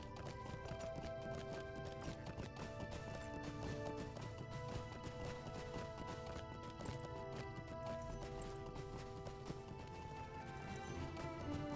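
A horse gallops in the video game Lord of the Rings Online, its rhythmic hoofbeats clopping steadily and continuously under layered in-game music, fairly faint and without speech.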